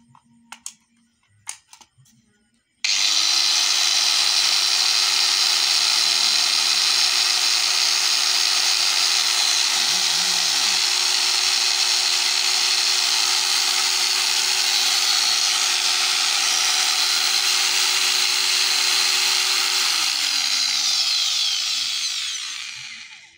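Repaired electric angle grinder switched on and left running: a steady, loud high-pitched motor whine that holds for about twenty seconds before spinning down, after a few brief handling clicks.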